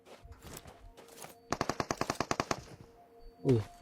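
A rapid burst of about a dozen automatic gunshots rings out in quick rhythm, preceded by scattered shots and followed by one heavier blast.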